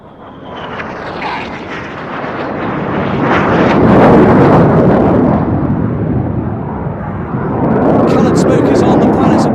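Red Arrows jets streak past at high speed, a loud roaring jet rush that swells and fades and then builds again, with wind buffeting the microphone at an outdoor air show.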